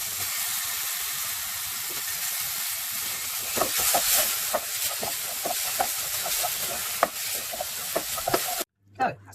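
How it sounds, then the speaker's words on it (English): Ginger and aubergine frying in a pan, giving a steady broadband sizzle and hiss with scattered sharp crackles and pops, close up and continuous until it cuts off near the end. "I'm going to put the ginger in and let that fry for a few seconds."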